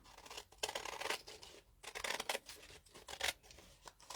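Scissors snipping paper for a junk journal, a quick run of close, crisp cuts in short bursts separated by brief pauses, no talking.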